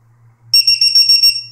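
An external LiPo battery alarm plugged into a balance lead emits a rapid run of about six loud, shrill electronic beeps in quick succession after a brief click, close and alone.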